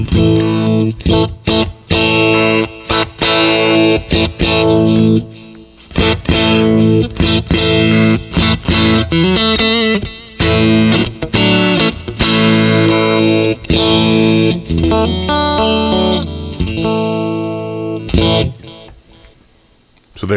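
A Fender Limited Edition rosewood-neck Stratocaster electric guitar played through distortion, loud sustained chords and riffs with choppy stops and restarts, ringing out alone and fading at the end.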